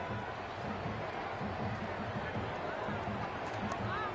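Steady crowd buzz rising from the stands of a cricket ground in the video game Cricket 26, a continuous murmuring hubbub with indistinct babble held at an even level throughout.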